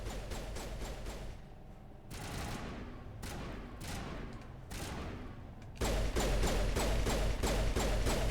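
Rapid bursts of automatic gunfire in the video game Mass Effect, loud and sustained, with dense volleys broken by brief pauses and a heavier, louder barrage near the end.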